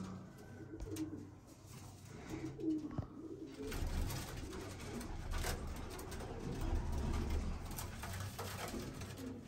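Flying pigeons coo in a loft, low soft cooing repeating throughout amid a busy close background, with no talk.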